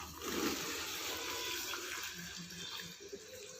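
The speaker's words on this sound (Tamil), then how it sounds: "இப்போது இதில் வந்து தண்ணியை வந்து சேர்த்திக்கோங்க." Water pours into a container holding coffee powder in a continuous splashing, gurgling rush, close and moderately loud, gradually easing toward the end.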